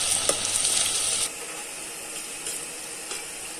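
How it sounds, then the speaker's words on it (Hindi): Finely chopped onions fry toward golden brown with a bright, steady sizzle that drops to a softer crackle after a stir, with occasional light clicks from the pan. "बारीक कटा हुआ प्याज, इसे पकाएंगे हम गोल्डन ब्राउन होने तक।"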